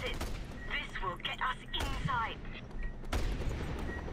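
Gunfire aimed at the player in the open-world action game Just Cause 2: a burst of overlapping shots and booms, loud and close, with someone talking over much of it.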